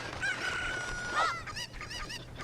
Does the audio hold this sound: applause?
no